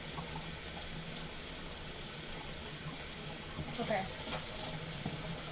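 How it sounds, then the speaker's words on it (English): Kitchen tap running cold and hot water into the sink, a steady close hiss of flow that swells slightly as the mix changes, with a brief word spoken over it. "So I'm gonna turn that cold water on, turn the hot water down a little bit"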